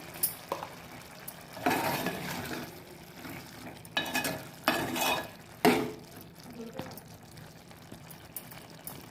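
A spoon stirs bottle gourd vegetable frying in a pan, making soft scraping and gentle sizzling in several short bursts over a steady low hiss, fairly quiet and close.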